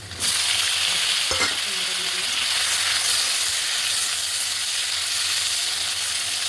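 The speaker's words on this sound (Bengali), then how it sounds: "এটা হচ্ছে ঝিঙে ভাজা।" Sliced ridge gourd sizzles loudly as it fries in a pan for a home lunch, with steady hissing and a brief scrape of stirring early on, and no talking.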